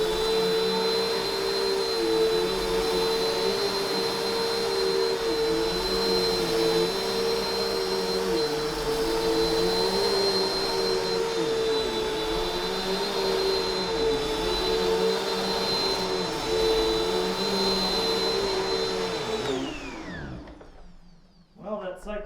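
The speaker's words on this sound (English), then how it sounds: "So we're just going to vacuum with this and see how it does." A steady, loud whining drone of a Bissell CleanView Swivel Pet bagless vacuum cleaner running for a long stretch, then switching off and winding down.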